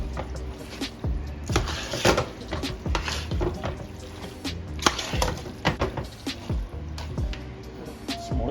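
Spaghetti sauce with a teaspoon of sugar is stirred in a pot, giving uneven clinks and scrapes of a utensil against the pot and soft wet squishes, close by and without speech.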